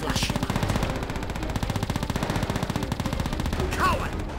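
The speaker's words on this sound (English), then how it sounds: "I guess this is the sounds of battle slashing." Rapid machine-gun fire fills a Call of Duty: World at War battle on the Russian front, a steady fast rattle of shots running throughout with brief distant voices.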